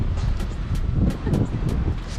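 Gusty wind on a sandy beach buffets the microphone with a low, rough roar that rises and falls throughout.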